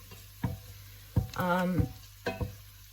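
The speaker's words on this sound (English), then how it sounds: "I've got one small onion gently sweating in a drop of, what have I used today? Rapeseed oil." A small onion gently sweats in a little rapeseed oil in a pan for leek and potato soup, with a soft sizzle and a few brief clinks and scrapes of stirring.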